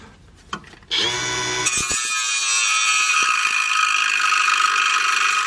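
A power tool cuts into the sway bar bracket of a C3 Corvette. After a couple of clicks it spins up to a loud, sustained, high-pitched grinding whine that holds steady to the end.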